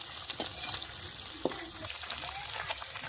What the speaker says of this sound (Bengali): ওখানে মাছ ভাজা হচ্ছে